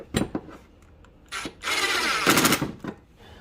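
Short bursts of an impact wrench rattle close by as bolts are tightened on a Honda 2.4L engine, a few quick taps followed by a longer sustained hammering run, with no talk.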